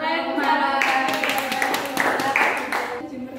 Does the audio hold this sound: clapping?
yes